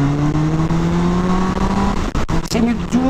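Suzuki GSX-S 750 motorcycle pulling away from a standstill on a road, the engine revving up in rising strokes through the gears, loud and close, with a brief dip at a shift and traffic nearby.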